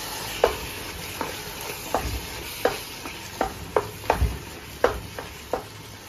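Mutton being mixed with yogurt in a pot, a series of about a dozen distinct scraping strokes at an uneven rhythm, close by, over a quiet background hiss.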